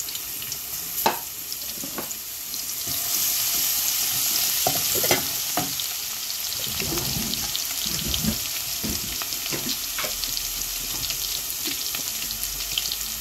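Cumin and garlic fry for a karfu fish curry, a continuous sizzle nearby with irregular stirring knocks and scrapes from a spoon in the pan. No voices are heard.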